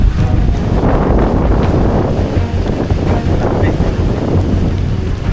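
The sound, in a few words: strong wind and rain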